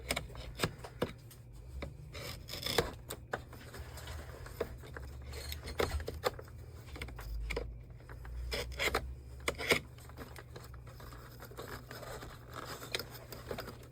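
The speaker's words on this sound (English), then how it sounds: "Just take a razor knife, cut off some of these strings and hairs." A razor knife scrapes and snips at tangled strings and hair on the brush roll of a Shark NV800 vacuum power nozzle, with close, irregular short cuts and rubbing over a low hum.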